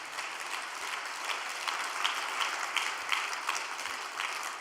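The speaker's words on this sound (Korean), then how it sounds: "우리 두 분에게 감사의 박수를 올리겠습니다." A house church congregation gives a round of thankful applause, a dense, even wash of many hands at moderate distance, with a few sharper claps standing out, holding steady throughout.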